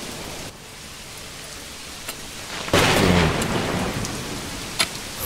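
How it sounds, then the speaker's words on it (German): Thunder and rain in the medieval city-building game Manor Lords: steady rainfall hiss with a loud rolling thunderclap bursting in midway, then fading back to the rain, with scattered sharper crackles. "kann mir vorstellen, dass wir jetzt hier irgendwo einen Blitz gesehen hätten. Zumindest klang es gerade so."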